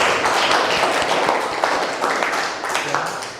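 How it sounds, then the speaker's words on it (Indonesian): Students and teacher clap together in a classroom at the end of a reading lesson, a loud, fairly close round of hand claps with some voices mingled in. "Sekali lagi, tepuk tangan untuk kita semua pada hari ini."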